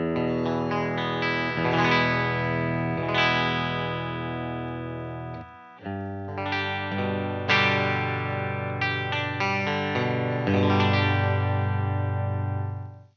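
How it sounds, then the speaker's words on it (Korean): Telecaster electric guitar played clean through its rear pickup with natural tone, bright twangy chords and single notes ringing and sustaining in phrases, close and clear with no talk. "이게 텔레캐스터라서 그런지 깡깡거리는 어떤 텔레 특유의 소리가 있네요"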